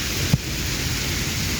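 Steady rain hisses outdoors with a dense, even wash of noise, broken by a single short low thump of thunder near the start.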